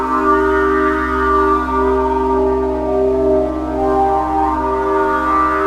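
Sustained synth pad thickened by a quad chorus effect, a dense, steady chord with gently wavering, shimmering overtones, loud and unbroken with no voices.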